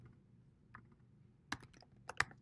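A few sparse, soft keystrokes on a computer keyboard as words are typed into a Smart Notebook lesson, with two sharper clicks standing out against an otherwise quiet room.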